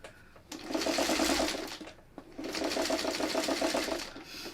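Sewing machine stitching a curve on a quilt block, two close bursts of rapid rhythmic needle clatter, the first about a second and a half long, then a short pause and a longer run.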